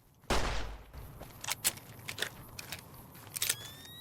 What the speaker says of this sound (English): This gun sounds like an Iron Man blast when you reload it.